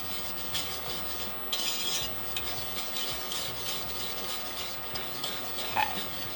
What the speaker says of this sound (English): I'm gonna give this a stir. It's boiling already.